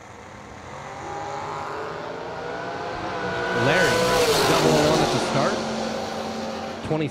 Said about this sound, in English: 2016 Ford Mustang.